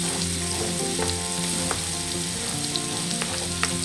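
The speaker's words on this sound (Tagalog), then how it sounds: "O, nilagyan ng konting mantika. Kaya, may bawang." Garlic sizzles in a little cooking oil in a pan for pancit guisado, a steady close frying hiss with occasional pops and stirring clicks, no voices.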